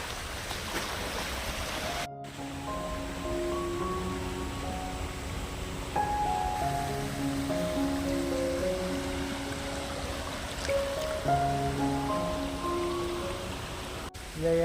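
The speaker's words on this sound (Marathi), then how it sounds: "खूप छान पाण्याचा आवाज वगैरे येतात" Water rushes steadily in a continuous broadband wash, like a stream flowing nearby at the foot of Asheri fort, with rocks placed in it, while scattered tonal notes of birds sound faintly over it.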